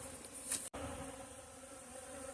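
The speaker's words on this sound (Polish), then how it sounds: "zobaczcie ile tutaj jest pszczoły" A dense, steady buzzing of many honey bees swarming close by at an apiary, continuous throughout with no voices.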